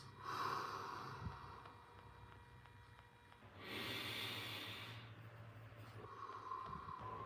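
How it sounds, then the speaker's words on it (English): Deep, slow breaths taken close to the microphone in a quiet room, a long hissing inhale or exhale followed by another rush of breath after a pause. "Couple of deep breaths."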